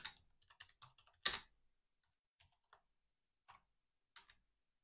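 Keys on a computer keyboard are tapped out as a search query is entered, with a quick burst of clicks, one louder clack, then sparse isolated keystrokes with pauses between them, close and fairly quiet with no talking.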